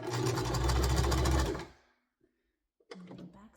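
A sewing machine stitches thrifted dress pants in a rapid, close, mechanical run that stops after about a second and a half, then starts briefly again after a pause.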